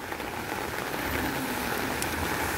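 Steady rain pouring down, a dense continuous hiss of drops on surfaces with no voices, constant in level throughout.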